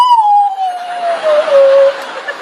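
A voice imitates a howling dog with one long drawn-out howl that slowly falls in pitch, loud and close and amplified as at a sermon before a large crowd.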